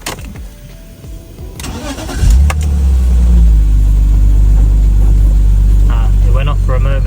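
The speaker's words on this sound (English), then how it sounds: "I'm going to start the car and see if it's done anything." A BMW E46 car is started up: a short crank catches into a loud, steady idle that holds close by for the rest of the moment, preceded by some handling noise.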